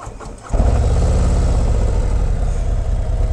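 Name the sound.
2024 Harley-Davidson Road Glide stock motorcycle engine starting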